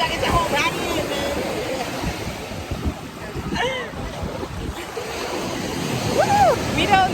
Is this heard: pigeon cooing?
no